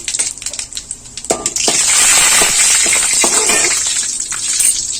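Mustard seeds spluttering and popping in hot oil in a heated pan, a dense crackling hiss that starts sparse and swells into continuous loud sputtering.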